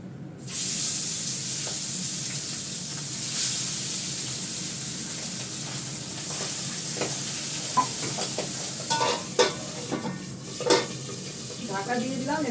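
Hot oil spattering and sizzling loudly in a pan while frying, a dense continuous hiss close up, with a few sharp pops and utensil knocks toward the end.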